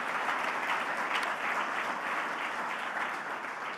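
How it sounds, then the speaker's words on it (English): Sustained audience applause at the Rolex LPGA golf awards ceremony, a dense steady clapping from a large crowd that carries on throughout and eases off slightly at the end. "you can clap for that as well"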